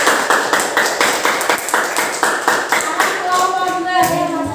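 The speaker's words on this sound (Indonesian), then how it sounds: "tepuk tangan buat kelompok 1." Classroom applause for a student group after its presentation, a burst of fairly rhythmic hand claps from a small group of pupils, close and moderately loud, tapering off with some voices toward the end.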